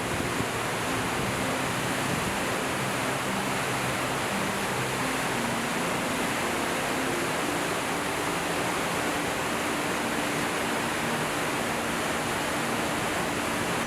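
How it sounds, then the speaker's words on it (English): Victoria Falls on the Zambezi River, on the Zambia–Zimbabwe border, roars as a dense, unbroken wash of loud rushing water that holds steady throughout. "Victoria Falls is more than a waterfall"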